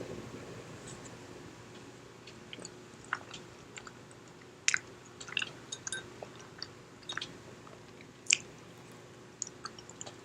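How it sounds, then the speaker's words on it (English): Someone chews chewy tteokbokki rice cakes up close, producing soft, wet squishes and sharp bites in an irregular rhythm over a quiet fan-like hum, with no talking. "Rice cake, this tteokbokki is so good."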